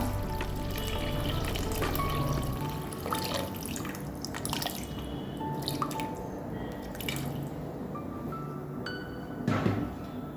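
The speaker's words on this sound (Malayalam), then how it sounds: "ഒക്കെ മിക്സാക്കി നമുക്ക് വെള്ളം ഒഴിച്ചു കൊടുക്കാം" Five glasses of water splash and trickle into a pot of fried rice for veg biryani, with dripping and clinking sounds, fairly close, with a louder splash near the end.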